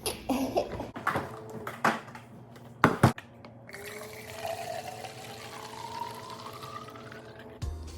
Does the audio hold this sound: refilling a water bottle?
yes